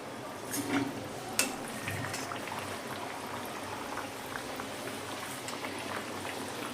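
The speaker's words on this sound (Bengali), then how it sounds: "ডুবো তেলেই ভাজতে হবে" Triangular nimki pastries deep-frying in plenty of hot oil on low heat, giving a steady bubbling hiss with a brief clatter near the start, no talking.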